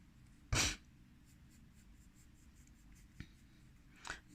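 Pencil drawing a freehand curve on paper, a single short scratchy stroke followed by faint taps and a brief second scrape, quiet and close in an otherwise still room.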